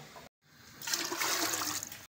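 Water gushes into a pot for chicken stock, a steady, close splashing pour that lasts about a second before it cuts off, with no talk over it.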